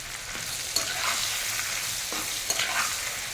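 Pieces of giant freshwater prawn frying in hot oil with turmeric, giving a steady loud sizzle with a few scraping stir strokes from a spatula, close up, no voices.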